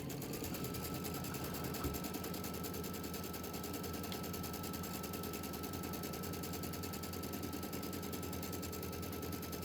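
A sewing machine runs steadily throughout, its rapid needle clatter a constant whirring drone without pause or speech.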